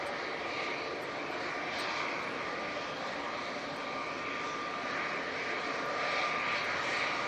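A Ryanair airliner on landing approach gives off a constant, moderately distant jet engine rumble with a faint high whine running through it, rising slightly toward the end, no talking.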